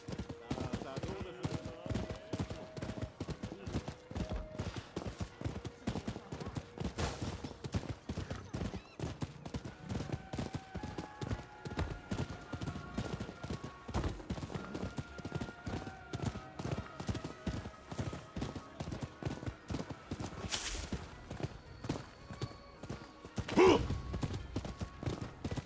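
Horse hooves clip-clop in a steady, brisk rhythm while riding in the video game Rise of the Ronin, each strike sharp and clear, with a couple of louder bursts of game sound near the end.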